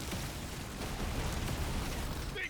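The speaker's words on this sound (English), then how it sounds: "Oh, that was a good explosion." Explosion in the video game Deep Rock Galactic Survivor, a dense, steady roar of blasts and mechanical game noise filling the whole stretch, loud and continuous with no voice.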